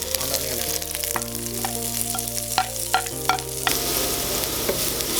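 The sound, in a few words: ginger, green chilli and onion frying in clarified butter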